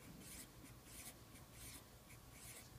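Pen or marker scratching out numbers by hand on paper or a board, with rhythmic bursts of short strokes separated by brief pauses, close and fairly quiet, and no talking.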